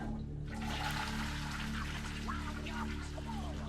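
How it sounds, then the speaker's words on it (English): Toilet flushing in the survival horror game Flesh Made Fear: a steady rushing, gurgling swirl of water that starts abruptly and runs throughout over a constant low hum. "if you flush this toilet, it says something"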